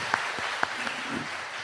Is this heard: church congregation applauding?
yes